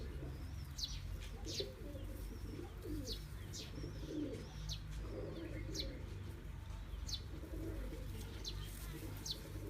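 Pigeons from a breeder pair coo in soft, repeated low calls throughout, with scattered high chirps above a steady low background rumble.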